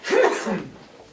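A single sharp sneeze, close and loud, trailing off quickly into quiet.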